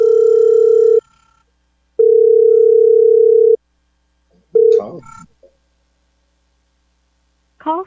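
Telephone ringback tone on an outgoing call: two long, loud, steady electronic tones with a gap between them, followed by brief voice fragments and faint line sounds.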